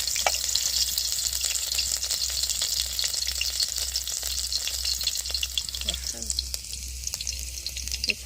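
Chopped mushrooms and ripe red chili fry in plenty of hot oil in a wok, giving a steady, close, crackling sizzle that runs unbroken throughout, with no voices.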